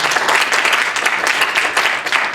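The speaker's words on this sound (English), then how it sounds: "So if I could have an additional round of applause for these wonderful organizers." Audience applause for the organizers of a discussion event after a film screening, a dense, steady wash of many hands clapping at full volume throughout, with no voices above it.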